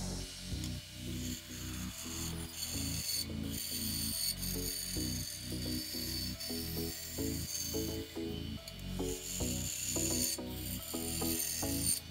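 A 1-inch belt sander shapes the pommel of a walnut strop handle, giving repeated rasping strokes in a steady back-and-forth rhythm of about one per half second, close and fairly quiet, with no talk.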